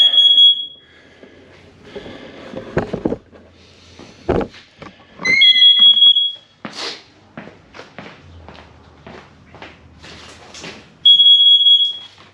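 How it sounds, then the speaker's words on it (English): Loud, shrill carbon monoxide alarm beeps in three sustained bursts during welding work on a Range Rover Classic, separated by clattering, rustling, and handling noises in between. "let me open the door, get the alarm to shut off"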